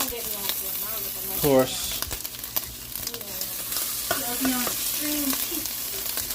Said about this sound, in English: Let me flip my bacon